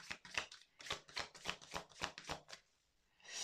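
Oracle cards drawn and shuffled for a card reading give a soft, rhythmic run of papery riffles and flicks at a steady pace, faint and close, fading out near the end with no voices.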